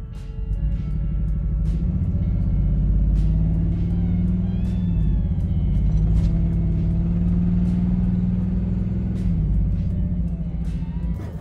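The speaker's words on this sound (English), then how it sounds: "This customer's car wasn't too happy about having a car wash." A customer's car runs during a car wash with a steady, loud low engine rumble throughout, overlaid by a droning tone that rises and falls in pitch, plus faint scattered clicks and splashes.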